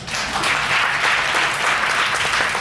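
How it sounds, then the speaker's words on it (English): An audience at a staged reading of a mock talent show breaks into steady, even applause that fills the whole moment with no voices over it. "The audience applauds."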